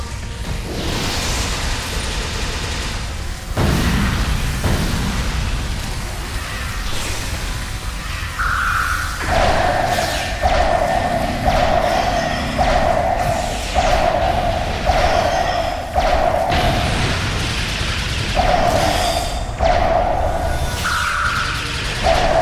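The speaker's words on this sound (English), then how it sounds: "Still firing. Golly, these turrets are more hard to deal with than the Cardassians." Turrets fire and explosions hit in a Star Trek Online space battle in the Badlands: booming blasts and whooshes, followed by a repeating rhythmic weapon tone pulsing steadily, loud and close.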